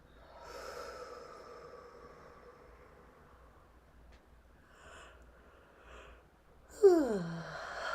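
A big, drawn-out human yawn during a calm guided breathing session, with soft breathy sighs at first and then a loud rising-and-falling vocal stretch near the end, close and alone.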